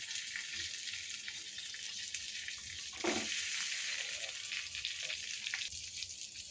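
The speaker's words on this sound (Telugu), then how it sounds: "ఈ మిర్చీలు వేసుకొని ఫ్రై చేసుకోవాలి" Green chillies fry in a little oil in a pan over a low gas flame, giving a steady, close, hissing sizzle that continues throughout, with a brief louder burst partway through.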